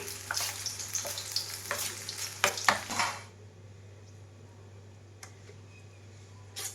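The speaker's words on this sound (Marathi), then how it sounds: "ही मिरची ना मी पिठाची बुडवलेली आहे ती अशी तेलामध्ये टाकून घेते" Batter-dipped chili fritters hit hot oil, which sizzles and crackles loudly for about three seconds with clinking and stirring, then settles into a quieter steady hiss with a couple of faint ticks.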